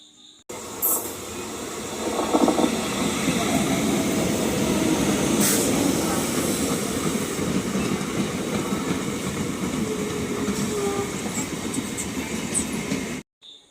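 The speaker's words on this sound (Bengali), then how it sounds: "এটা হলো ডাউনের দিকে 3 নম্বর ট্রেন" A down local train pulls into a station platform on a rainy day: loud, continuous rumble and rattle of wheels and carriages passing close by, with brief squeals and clatter throughout.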